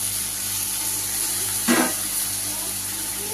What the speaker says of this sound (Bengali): এবার এর মধ্যে সেই মেখে রাখা যেই বাটিটা ছিল, তার মধ্যে অনেক মশলা ছিল, সেই জলটাই দিয়ে দিলাম।